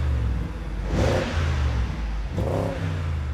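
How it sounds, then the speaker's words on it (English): A cabriolet's engine, warmed to working temperature, is revved twice in short bursts, each rise swelling and falling back to a steady idle, close and clear with no talk. "you get the engine up to working temperature, and then you rev it"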